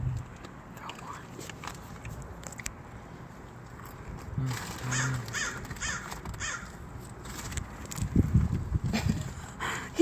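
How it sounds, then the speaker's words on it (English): A crow caws a few times outdoors near people feeding crackers to birds, with whispered talk and shuffling underneath. "There's a crow."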